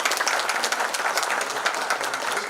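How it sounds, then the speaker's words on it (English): Audience at a builder's meeting with project allottees applauding Colonel Patna, a thick, continuous wash of many hands clapping, steady and fairly loud throughout. "May I request you all to please give a big hand of applause."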